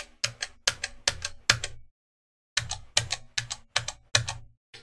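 Ultimarc Goldleaf RGB arcade buttons pressed at equal strength, two sets of five sharp, close clicks with a brief pause between the sets.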